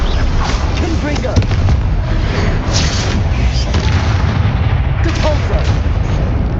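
Repeated Confringo spell blasts in the Hogwarts Legacy video game, a rapid barrage of booming explosive bursts layered with battle clatter, loud and continuous throughout.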